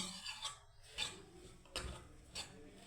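Hands knead flour dough mixed with spices, cumin and salt, giving soft, close rubbing and squishing sounds in a few slow, rhythmic pushes, quiet and without voices.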